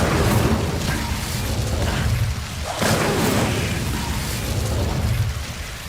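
Incendio fire spell cast repeatedly in Hogwarts Legacy, a dense roaring blast of bursting flame and crackle that stays loud throughout, with a brief dip midway before the fiery rush resumes.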